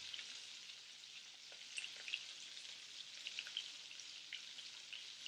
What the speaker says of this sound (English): we're going to sear it just a little bit longer till we get the nice golden brown